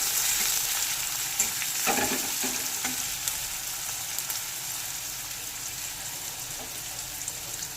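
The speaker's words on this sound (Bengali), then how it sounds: "পেঁয়াজ কুচিটাকে একটু ভেজে নেবো" Chopped onion frying in hot refined oil in a wok, giving a steady, close sizzle and crackle throughout with a few sharper pops from stirring, and no voices.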